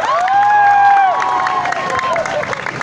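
Applause and cheering from a crowd at a company Christmas party, with loud whoops and voices over scattered clapping, all close and busy.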